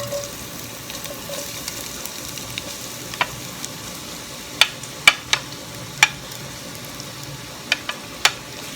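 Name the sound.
spices sizzling in hot oil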